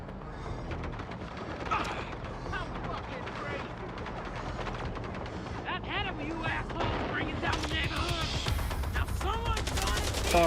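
Rapid gunfire from a character shooting in the video game Mindseye, sustained bursts layered with a woman's vocal noises and dense game sound, getting louder toward the end.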